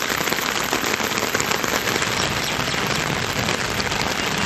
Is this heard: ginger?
no